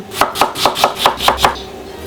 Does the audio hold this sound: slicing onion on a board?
yes